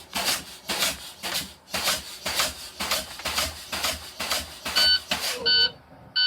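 An air brake pedal on a bus pumped again and again during a brake test: regular rhythmic hissing and thumping strokes, close and fairly loud, with electronic warning beeps sounding near the end.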